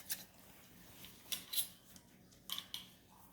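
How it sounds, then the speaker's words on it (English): Kitchen scissors snip through the back of a whole raw chicken, sparse crisp cuts and clicks a few at a time, fairly quiet against a soft room background. "For the back part, I'm going to use some good scissors."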